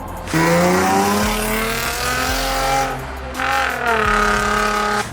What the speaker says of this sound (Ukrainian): І це V6, ну муа, звук він видає, ну просто конфетку